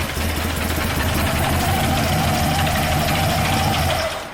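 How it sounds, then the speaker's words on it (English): A Chevy Squarebody engine idling loudly up close with nasty rod knock: a rapid, rhythmic metallic knocking running steadily under the low rumble until it fades at the end. "And it's nasty rod knock."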